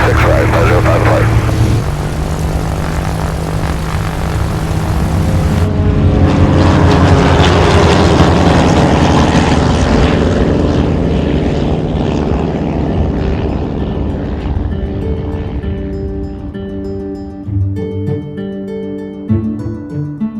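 A Grumman propeller skywriting plane powers up and takes off from runway 26 right, its engine roaring loud and steady, then fading as it climbs away, with a radio voice heard.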